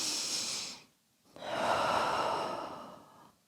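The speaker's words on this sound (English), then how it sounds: "take some nice deep breaths" Deep breathing during a neck and shoulder stretching exercise: a slow breath in, a short pause, then a longer audible breath out, close and soft with no talking.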